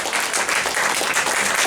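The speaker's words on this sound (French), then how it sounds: "que je vous demande, mesdames, messieurs, d'applaudir" An audience at a Lions Club charity meeting applauds, a dense, loud wash of clapping hands that holds steady from start to finish.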